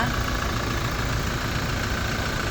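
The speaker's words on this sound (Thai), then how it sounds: "เครื่องยนต์หนิงเงียบกิ๊บเลยค่ะ" A 2019 Toyota Fortuner 2.8 V 4WD TRD diesel engine idles with a steady, loud, even hum and faint clatter, heard close up from under the open hood, with no talking.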